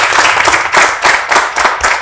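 Audience at an African youth entrepreneurship forum applauds its guests, a dense, steady wash of clapping hands with rhythmic swells throughout, close and fairly loud with no talking.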